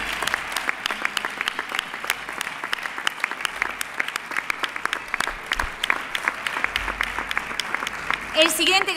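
Strong applause for award winners at a sports gala in San Sebastián de los Reyes, a long, even patter of many hands with crisp distinct claps, fairly near and filling the room throughout.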